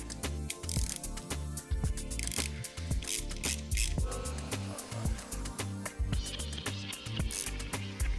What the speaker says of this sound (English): So firstly, use a 6mm socket. We're going to remove the 6mm bolt situated here.